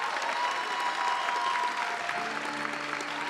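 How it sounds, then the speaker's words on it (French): A crowd applauds at a college arts award event, steady moderate clapping throughout with a faint sustained tone appearing in the background partway through. "Vous pouvez l'applaudir."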